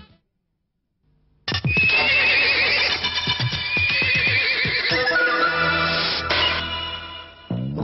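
A racehorse at the start of a race whinnies loudly and repeatedly, with busy galloping hoofbeats and crowd or broadcast noise behind, all fairly close and sustained after a brief silent opening.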